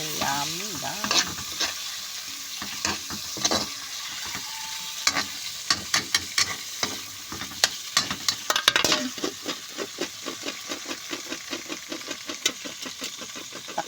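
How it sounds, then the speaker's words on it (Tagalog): Shrimp frying in butter and garlic, stirred in a pan: continuous close sizzling with frequent clinks and scrapes of the spoon, settling into a quick, regular tapping rhythm toward the end. "Nalagay na yung hipon. So, halo-halo and yan"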